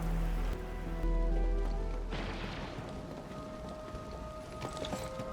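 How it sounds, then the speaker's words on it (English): Heavy rain in the video game Arknights: Endfield falls in a dense, steady hiss after a low tone fades early on, staying fairly soft and unbroken throughout. "It's raining harder. I can't hear anything except for the rain."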